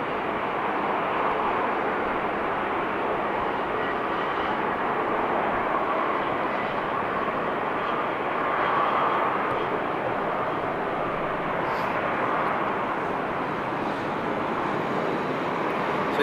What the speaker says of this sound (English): we will still get to see the heavies taking off from here